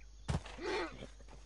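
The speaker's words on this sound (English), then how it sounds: "You can hear me get off my horse." A rider dismounts a horse in the video game Red Dead Online: a brief thud of boots and tack near the start, then a soft horse snort or whinny-like tone, quiet and close, with no talking.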